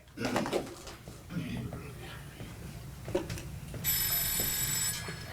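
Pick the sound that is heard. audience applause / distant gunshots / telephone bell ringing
telephone bell ringing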